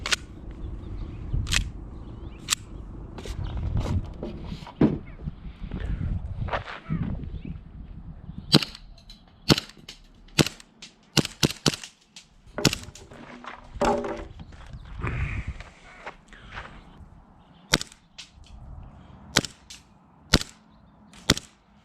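A gas-powered airsoft pistol fires a string of sharp, loud single shots, irregularly spaced and clustered in places, with quieter handling noise and rustling between them, no talking.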